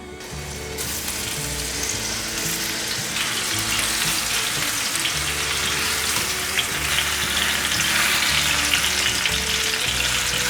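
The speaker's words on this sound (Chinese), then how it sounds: "油热了，把冬瓜放进来煎。" Pieces of winter melon frying in plenty of hot oil in a non-stick pan, a continuous close, loud sizzle and crackle that swells slightly as it goes, with no talking.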